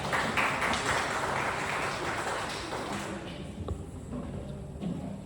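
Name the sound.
audience applause at a conference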